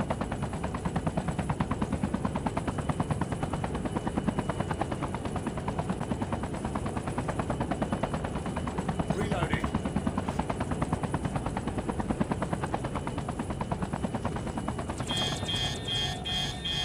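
Call of Duty video game sound of a helicopter going down, a steady loud rotor-and-engine roar with rapid thumping that runs throughout, bursts of gunfire-like crackle mixed in, and a brighter electronic tone near the end.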